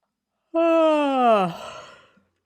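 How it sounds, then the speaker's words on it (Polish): A single forced, deliberate yawn done as a breathing exercise, loud and close, voiced and gliding downward before trailing off into a breathy exhale. "można zacząć od takiego ziewania trochę przymusowego"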